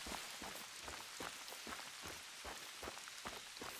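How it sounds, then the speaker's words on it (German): Rain falls on surfaces in theHunter: Call of the Wild, a loud continuous wash of spattering drops with small irregular taps, heard alone without voices. "Jetzt regnet es wieder."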